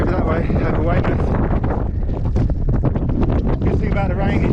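Strong wind buffets a microphone on a Dorset Jurassic Coast hillside after rain, a steady loud roar and rumble throughout the clip, with a voice speaking over it.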